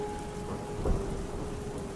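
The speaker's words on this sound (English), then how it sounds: "The sky rumbled with thunder" Steady heavy rain hisses throughout while a low roll of thunder swells briefly in the middle.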